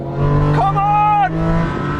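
Video-game race between a Honda NSX and a Nissan R34, with a steady engine drone and a rising, whining rev across the middle, under continuous excited commentary.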